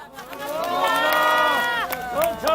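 Crowd at a political rally in the cold cheering loudly, a sustained wave of shouts and voices swelling to a peak before easing slightly, with excited calls continuing through.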